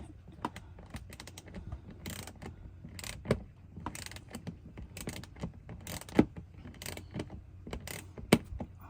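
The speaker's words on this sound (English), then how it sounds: "make sure you tighten this up well enough to where that bolt that you're screwing in captures that well nut" Bolt being screwed into a well nut on a front bumper canard of a Subaru WRX STi VA, giving soft irregular clicks and ratcheting ticks, close up, with a few sharper snaps standing out.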